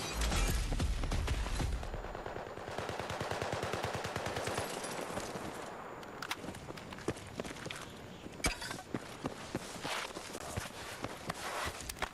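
Gunfire from a gun in the video game Battlefield 6, with rapid bursts and single sharp shots scattered across the span among game footsteps and other effects, moderately loud.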